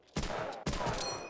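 Two sharp, close bursts of gunfire from the World War II shooter Medal of Honor: Allied Assault – Spearhead crack out in quick succession, each trailing off into a brief echoing tail.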